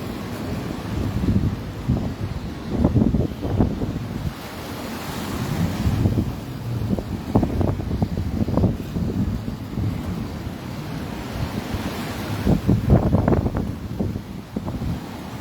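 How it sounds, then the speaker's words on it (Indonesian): Strong wind and high waves batter the Makassar Strait coast at Bulukumba, with a steady roar of surf and wind buffeting the microphone, swelling in repeated surges over the whole stretch. "Wilayah Kabupaten Bulukumba terus dilanda dengan angin kencang dan gelombang tinggi."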